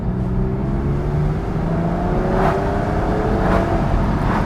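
Inside a Porsche 911 Carrera 2 Tiptronic S, the engine drones loud and steady at about 30 mph while the automatic gearbox drops to second. The engine note shifts slightly mid-clip, and the cabin is continuously filled with engine hum.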